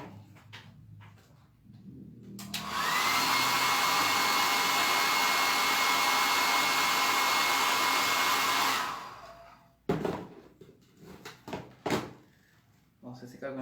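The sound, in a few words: hair dryer drying a painting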